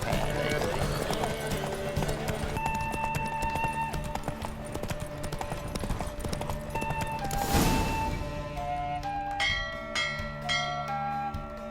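Horse hooves galloping in a race in The Witcher 3, rapid rhythmic clip-clop under voices, with bell-like music tones joining near the end.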